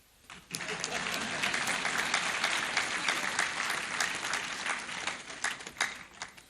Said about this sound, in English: I'm waiting for you to clap.